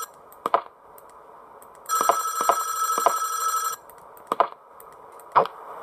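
A phone rings in the office of the horror game Five Nights at Wario's, a bright electronic trill lasting about two seconds, surrounded by sharp clicks and taps.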